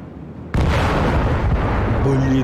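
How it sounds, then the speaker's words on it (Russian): A bomb detonates in Garry's Mod with a sudden, heavy boom that sets off a sustained roaring rumble, loud and close, after a brief quiet lead-in. "Блин, эпично взрывается."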